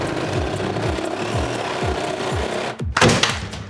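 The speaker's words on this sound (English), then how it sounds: "we actually need to use a bit of a reciprocating saw to cut it out" A reciprocating saw cuts out a kitchen cabinet, giving a loud, close, rhythmic buzzing of repeated strokes with a harsh burst as a piece breaks free near the end.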